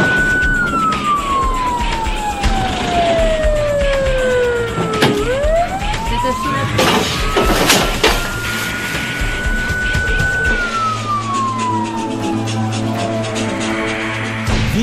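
An ambulance siren wails loudly and close by in slow rising and falling sweeps, over the steady rumble of the vehicle and passing traffic.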